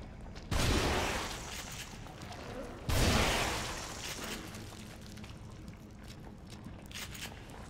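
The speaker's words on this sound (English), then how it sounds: "Plus B, the shotgun." Two shotgun blasts from The Evil Within, each a sharp loud crack with a short decaying tail, spaced a couple of seconds apart over a quiet background.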